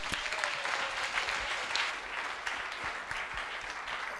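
A church congregation at a morning service applauds, a fairly quiet but steady wash of many hands clapping with a few sharper claps standing out, continuing throughout.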